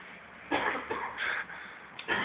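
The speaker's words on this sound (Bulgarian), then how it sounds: "Това от сладоледа кашляш." Several harsh coughs in quick succession, close and fairly loud, with short pauses between bursts and no speech.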